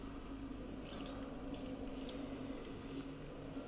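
Lemon juice and water are poured from a cup over cut celeriac in a kitchen, a soft, steady trickle and splash with faint dripping, quiet and heard alone.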